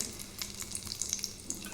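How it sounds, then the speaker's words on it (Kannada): Dry fruits frying in ghee in a pan, giving a steady close sizzle with light crackling pops and soft stirring scrapes, no voices. "ಡ್ರೈ ಫ್ರೂಟ್ ರೆಡ್ ಆಗ್ತಾ ಬರುತ್ತಿದೆ"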